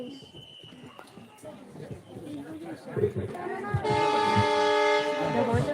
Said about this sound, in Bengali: যে ট্রেন এখন আবার ছেড়ে যাচ্ছে